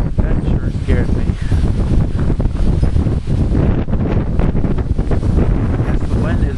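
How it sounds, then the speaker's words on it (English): Strong wind from Tropical Storm Irene roars and buffets the microphone outdoors, loud and continuous throughout the whole stretch. "the wind is really good out here."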